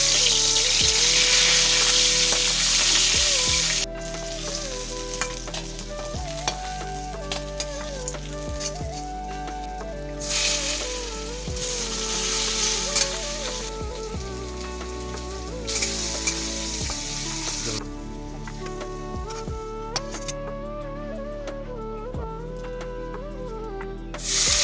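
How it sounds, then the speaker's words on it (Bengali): Pieces of rohu fish fry one by one in hot oil in a wok, producing a loud, continuous crackling sizzle that swells and eases over melodic background music, with no talking. "কড়াইতে তেল দেওয়া হয়েছে, এবার একে একে মাছ ভেজে নেওয়া হচ্ছে।"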